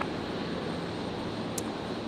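Singapore Airlines A350 departing runway 01 right at Brisbane Airport, a continuous broadband jet engine roar heard from a distance, steady and unbroken with no voices.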